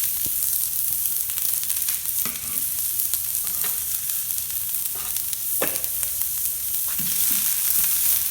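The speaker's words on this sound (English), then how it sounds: "get these frying." Chopped onions frying in extra virgin olive oil on a grill, a steady close sizzle with occasional sharp pops and stirring clicks, running alone with no talk.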